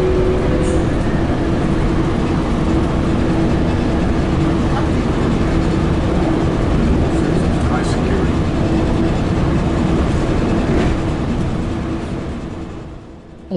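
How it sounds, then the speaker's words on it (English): Onboard a Metrolink passenger train out of San Bernardino rolling along the Surfline through Camp Pendleton: a continuous loud interior rumble with steady wheel and track noise, fading slightly at the end. "We're on Metrolink train 857 out of San Bernardino, rolling through the Camp Pendleton wilderness on the famous Surfline."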